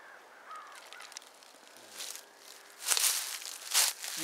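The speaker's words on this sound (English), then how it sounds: "And the crows have followed me." Crows calling in a creekside woodland with magnolias, a few harsh caws rising near the end over leaf rustling and footsteps, moderately distant.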